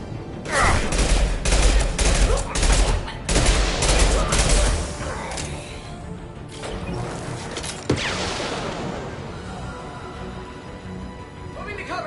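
Rapid bursts of weapon fire from the video game Mass Effect 2 rattle loudly in dense volleys, then ease into a softer, continuous clatter with a single sharp crack near the end, heard alone without talk.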